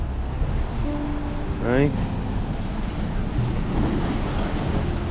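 Ocean waves wash at a Caribbean beach bar, a continuous close rushing surf with wind buffeting the microphone, while a person briefly speaks over it.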